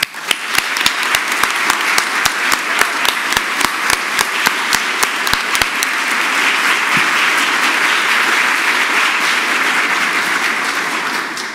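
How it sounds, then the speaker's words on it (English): Loud, sustained applause from a ceremony audience at the 2019 IMLS National Medals event, dense clapping filling the room with a few sharp individual claps standing out early before settling into an even roar. "And again, one more round of applause."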